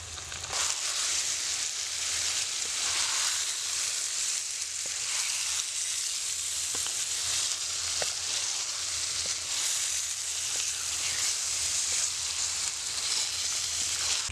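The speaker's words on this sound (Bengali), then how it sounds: "পেস্টটা আমার লাল লাল করে ভাজা হয়ে গেছে আমি এবার মেখে রাখা মাংসগুলো দিয়ে দিচ্ছি" Marinated desi chicken goes into spice paste fried until red. A loud, even sizzle and frying hiss runs throughout, with faint clicks of stirring now and then.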